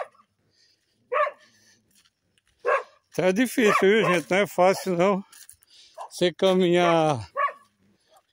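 Dogs bark in short bursts near a walker on a rural path in the Brazilian sertão, with a few sharp yaps early and louder barking under a man's speech in the middle.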